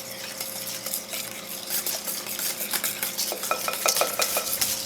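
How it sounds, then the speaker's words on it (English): Pumpkin puree being stirred into eggs for a homemade pumpkin pie, a steady scraping, clinking stir of a utensil in a bowl with a few sharper taps near the end, close and moderately loud with no talking. "You add the puree to the egg, and then you mix that."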